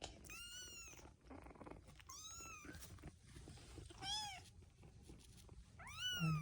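Kittens being watched by keepers on sand make a run of high, wavering meows. Four or so distinct calls come close and fairly loud over a steady background hiss.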